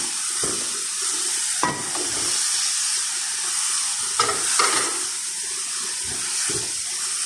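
Shrimp fry in a hot pan of rice and seafood and are stirred. A constant close sizzle runs under several scraping and knocking strokes from the utensil against the pan.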